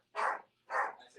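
Household dogs bark in two loud, close bursts about half a second apart, followed by a softer trailing yelp, in an indoor setting.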